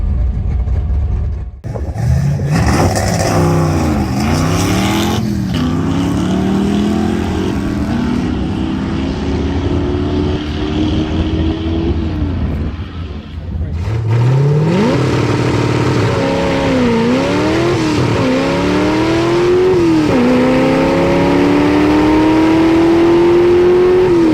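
A 1973 C3 Corvette V8 roars through a drag strip pass, loud and close, winding up through rising revs with gear shifts around the middle, then pulling hard again in repeated surges.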